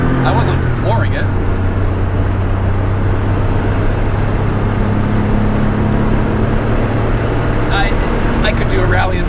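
Engine of a 1986 Porsche 911 backdate heard from inside, a loud, steady droning rumble with a low tonal hum that holds and shifts slightly in pitch, and brief voices near the start and end.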